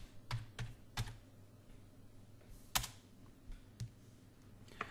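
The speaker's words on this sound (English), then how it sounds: "If you go back to Google and type in YouTube channel art" Fingers tap on a computer keyboard in short irregular bursts of crisp clicks, a few keystrokes at a time with pauses, close by in a quiet room.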